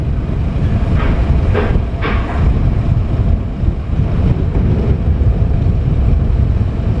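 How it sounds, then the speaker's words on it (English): Strong wind buffeting a microphone at a Brodick/Ardrossan ferry terminal on the Isle of Arran, a constant loud low roar with faint distant higher sounds in the first seconds and no speech. "it's quite windy today"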